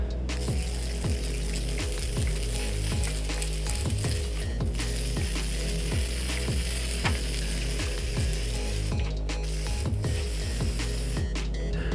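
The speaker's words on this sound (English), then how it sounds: "spraying this block down with some engine cleaner gel" A steady hiss of engine cleaner gel sprayed onto a Honda B18B engine block against a constant low rumble, with repeated short whooshing bursts sweeping down throughout.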